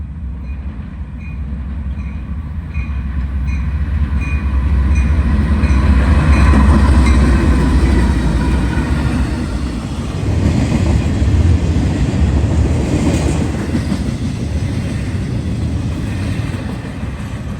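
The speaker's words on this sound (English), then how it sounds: "a Norfolk Southern Intermodal with a pair of C6Ms" A Norfolk Southern intermodal freight train led by a pair of C6M locomotives rolls past close by, a loud continuous rumble of wheels and cars swelling and easing over about seventeen seconds with faint rhythmic rail clatter.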